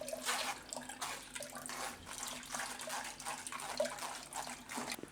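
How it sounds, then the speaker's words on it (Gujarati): Mixed vegetable juice is poured through a strainer, giving a quiet, continuous watery trickle and splash, with a few denser gushes and soft drips, close and alone with no voices. "તો બધું આપણે આમાં પહેલાં ગાળી લેવું."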